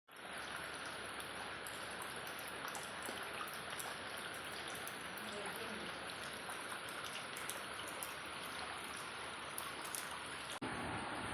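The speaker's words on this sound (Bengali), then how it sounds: "বাইরে প্রচণ্ড বৃষ্টি নেমেছে।" Heavy rain falling outside, a steady dense hiss of drops and running water that holds evenly throughout at a fair distance.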